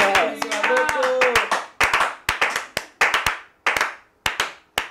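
A church congregation claps to acclaim God, with a dense burst of claps under a singing voice at first, then steady, rhythmic, sharp hand claps alone.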